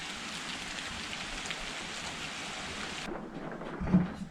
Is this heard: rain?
yes